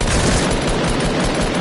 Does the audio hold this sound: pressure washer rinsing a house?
no